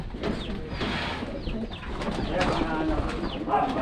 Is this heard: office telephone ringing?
no